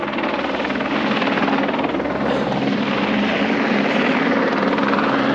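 Helicopter landing at the Namche Bazaar heliport in the Nepal mountains, a steady, loud rotor and engine roar that holds through the whole stretch with no talk over it.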